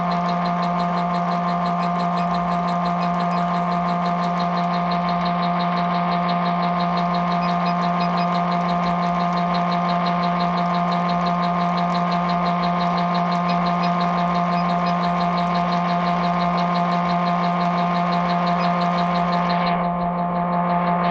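Bluewing line winder spooling fishing line at about 350 RPM, a steady, smooth mechanical hum with a strong constant tone that runs unchanged and loud for the whole stretch, easing slightly near the end, with no talking.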